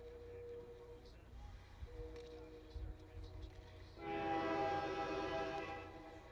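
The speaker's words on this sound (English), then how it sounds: "That train is annoying." A train passes nearby with a blast of its horn, a broad sustained tone that swells loudly for a couple of seconds over background rumble, heard behind a live preseason hockey game commentary.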